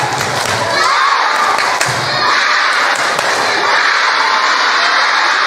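An audience at an Islamic religious talk does a rhythmic spirit clap, with loud crowd noise, shouts and scattered thumping claps filling the whole stretch.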